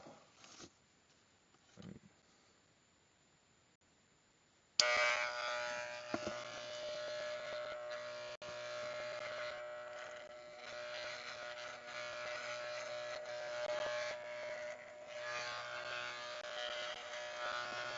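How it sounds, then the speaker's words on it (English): After a few seconds of near silence with faint handling, an electric shaver switches on and buzzes steadily and close-up for the remaining thirteen seconds, its tone wavering slightly as it moves across the face. "Got my shaver here. And away we go."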